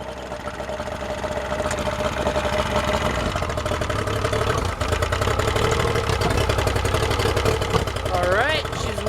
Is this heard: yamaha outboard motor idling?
yes